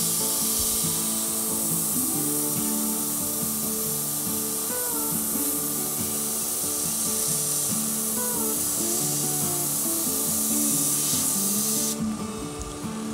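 An airbrush sprays paint in a fan onto a woodturned piece, a loud continuous hiss holding steady up close for most of the time before cutting off near the end, no voices over it.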